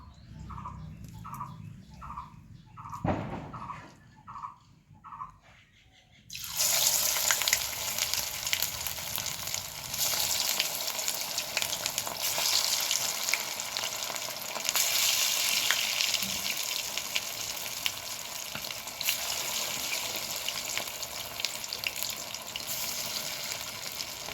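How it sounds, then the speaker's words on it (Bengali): Marinated chicken pieces for Chicken 65 deep-fry in hot white oil over medium-low flame. After a few quiet knocks and bursts, a loud, continuous bubbling sizzle takes over and runs steadily to the end, with no talking. "এবার আমি ম্যারিনেশন চিকেনগুলো একে একে তেলের মধ্যে মিডিয়াম টু লো ফ্লেমে ভেজে নেবো লাল লাল করে"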